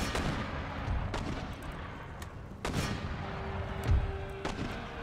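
Artillery guns firing in Empire: Total War during a siege battle: several heavy booming shots spaced irregularly over a continuous rumbling battlefield din, with some blasts sharp and close and others duller.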